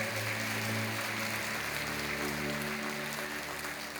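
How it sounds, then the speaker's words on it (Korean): Sustained applause from a church congregation during a Korean Sunday worship service, a dense, even clapping that fills the room from start to finish with no talk over it. "여러분 그의 박수로 환영하십시오"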